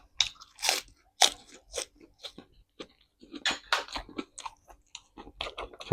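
Crispy pork belly crunched and chewed close up, a series of sharp, irregular crackling bites and munches with short pauses between them, fairly quiet and with no talking.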